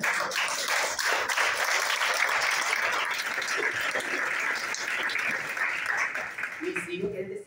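A crowd at a live music show applauds warmly, sustained dense clapping from many hands throughout, with some voices and cheering mixed in near the end.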